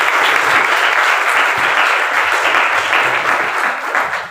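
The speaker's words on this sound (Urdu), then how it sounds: "ذرا تالی بجاؤ اپنے لیے۔" A church congregation breaks into loud, sustained applause, many hands clapping together in a dense, steady wash that fills the room and fades slightly at the end.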